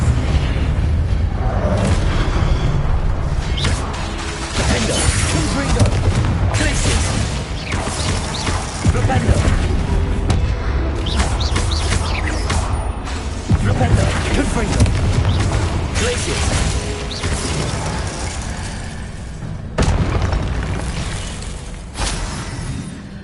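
Confringo fire spell explosions during combat in Hogwarts Legacy: loud repeated booms and bursts over a dense, continuous rumbling battle soundscape, with sharp hits at irregular intervals.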